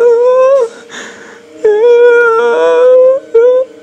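A human voice imitates a person groaning in pain with drawn-out, wavering moans in three close bursts, separated by short breathy pauses.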